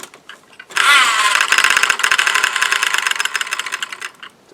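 A Piaggio Ciao moped engine, fitted with an added variator and a new flyweight, revs up with a rough, rapidly pulsing buzz, then settles and fades.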